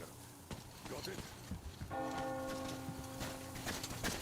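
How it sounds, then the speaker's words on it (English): A bell tolls in Metro Exodus, a steady ringing tone sustained for a couple of seconds over background rustling and footsteps. "Do you hear that bell?"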